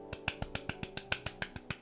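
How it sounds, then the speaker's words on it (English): Soft hand clapping: a steady, even run of about a dozen light, quick claps close by, with no voices. "that's my clapping"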